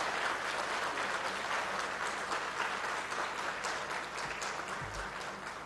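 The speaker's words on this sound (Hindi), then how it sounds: "ये मैं समझता हूँ जो तालियां हैदराबाद के अवाम बैठी बजा रही है" A seated audience in Hyderabad applauds at a foundation stone ceremony, with dense, continuous clapping that holds steady at a moderate distance and tapers slightly near the end.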